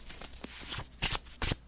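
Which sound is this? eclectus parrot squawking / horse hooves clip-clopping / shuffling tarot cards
shuffling tarot cards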